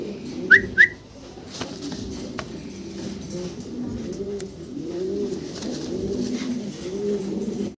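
A pair of African Owl pigeons coo in low, repeated rolling phrases close by, with two sharp whistle-like chirps near the start and faint background clatter.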